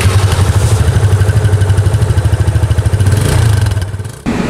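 A 2017 DSK Benelli TNT 600i with ABS runs its exhaust nearby, a loud, steady pulsing idle with a throbbing beat that swells briefly before cutting off near the end.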